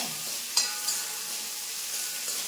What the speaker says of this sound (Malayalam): പച്ചമുളക് ചേർത്ത് നമുക്കിതൊന്ന് നന്നായിട്ട് മൂപ്പിച്ചെടുക്കാം